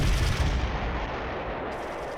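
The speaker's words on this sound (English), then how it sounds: "Russian heavy mortar rounds start to land on Spassky Gate." Heavy Russian mortar rounds land on the Kremlin's Spassky Gate in Close Combat 3, making a loud rumbling explosive roar that dies slowly into a steady low wash of noise, with no voices.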